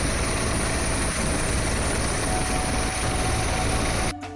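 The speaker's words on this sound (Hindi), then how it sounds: "अयोध्या प्रशासन ने हेलीकॉप्टर से पुष्प वर्षा की।" A helicopter flies over Ayodhya, showering flowers on Kanwar pilgrims, its steady rotor and engine roar loud and continuous before dropping away sharply near the end.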